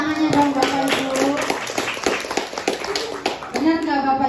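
Room of teachers clapping at a training session in Tanggamus, Lampung, a busy close patter of hands, with a voice and some chatter running over and through it.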